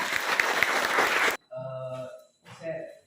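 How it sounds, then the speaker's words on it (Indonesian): Brief burst of clapping from a class discussion group, dense and fairly close for over a second, then stopping abruptly as a voice speaks. "untuk itu kita berikan aplaus kepada kita semua ya"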